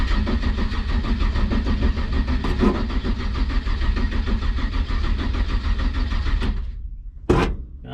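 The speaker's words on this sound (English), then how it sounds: "let's see if this whole thing will start" The engine of a 1958 Chevrolet Apache shop truck cranks and runs loudly and close for several seconds, then cuts out abruptly, followed by a short burst of mechanical noise.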